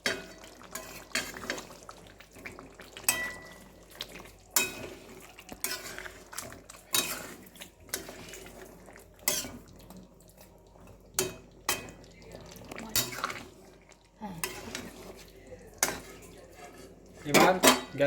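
A spoon stirs spiced curry in a pan after garam masala is sprinkled in, making repeated scrapes and metallic clinks in irregular bursts, close and moderately loud, with brief quiet gaps between strokes.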